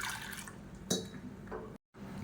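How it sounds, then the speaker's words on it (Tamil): Water trickles and splashes steadily as it is poured into a pressure cooker holding washed lentils for pepper rasam, a soft continuous liquid pour at close range. "இப்போ தண்ணி சேர்த்தாச்சு."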